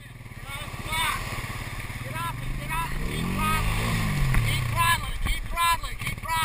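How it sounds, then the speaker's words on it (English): An ATV quad drives through ocean water, its engine droning and gurgling steadily throughout with water churning, while people talk and shout over it. "And the quad's in the ocean."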